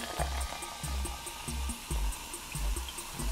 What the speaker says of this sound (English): I'm gonna pour this into my glass of irony.